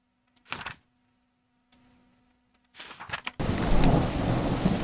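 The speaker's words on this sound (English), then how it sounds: "It's raining cats and dogs here." Heavy video-game rain bursts in and hisses steadily after a few quieter rumbling rustles of thunder, with a low hum underneath earlier on.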